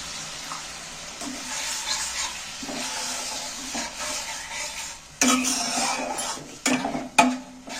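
Water goes into a masala paste that is frying in oil in a pan for a steamed egg curry, raising a steady bubbling sizzle, and a few scrapes and clinks of stirring come near the end.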